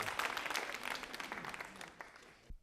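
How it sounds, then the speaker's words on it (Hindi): A quiz-show studio audience applauds a correct answer, dense and fairly quiet clapping that thins and fades out after a couple of seconds. "तालियां तो जोरों से बजाओ साहब, जोरों से बजाओ आप"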